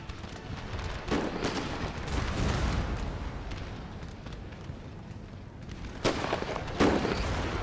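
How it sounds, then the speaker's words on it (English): Mortar artillery fire in the video game Napoleon Total War, a rolling rumble of distant booms with a few sharper blasts near the start and end, dense and continuous beneath faint battle noise. "We'll try to shoot with the mortars to see if that's gonna help."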